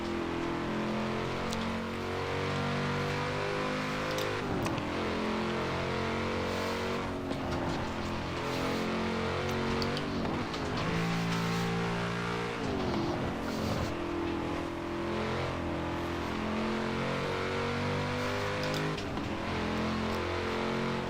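Race cars in the modded video game Snowrunner roar with continuous revving engines, rising and falling in pitch as they accelerate, loud and steady throughout with no talk.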